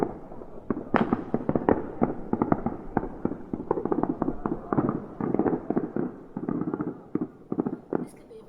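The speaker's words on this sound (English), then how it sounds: "fireworks going off in the night" Fireworks bursting through the night around Bonfire Night, a dense, continuous run of sharp cracks and pops at close-to-middle distance, with a few louder bangs standing out from the rapid crackle.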